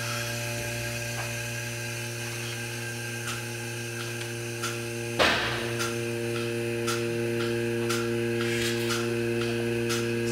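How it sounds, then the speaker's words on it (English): Vacuum pump of a dairy milking machine running in a barn, a steady loud mechanical hum with strong tonal drone and sharp intermittent clicks, with one brief burst partway through. "you can't really hear me talk very well with the vacuum on"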